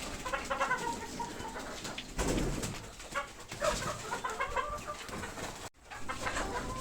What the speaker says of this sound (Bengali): আলহামদুলিল্লাহ সবগুলো মুরগি খাইতেছে